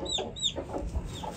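Aseel chickens from Ludhiana clucking close by, giving a few short throaty calls in a quick irregular sequence against a faint background murmur.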